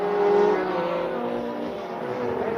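Formula 1 race car with an Alfa Romeo V12 engine at Monza in 1979, a loud steady high-pitched engine wail held close by with slight pitch shifts across the stretch, no voices.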